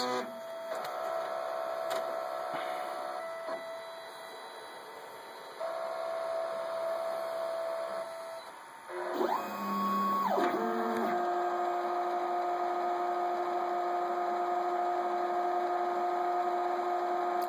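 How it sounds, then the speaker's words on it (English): A fifth-generation Replicator 3D printer checks the corners of its build plate while heating, giving steady tonal motor whines and hums that shift pitch in stages, with a louder stepping motor passage midway. "It's like it's checking something in the corners of the build plate while it's heating."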